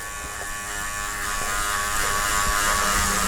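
Electric hair clippers buzz steadily while fading a skin-faded Ivy League cut, a close, continuous motor hum with slight shifts in tone as the blade moves through hair.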